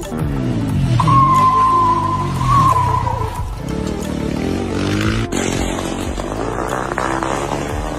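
Racing engines from a MotoGP motorcycle race roar loudly and continuously, with rising and falling revving whines as bikes pass close by, alone without talk.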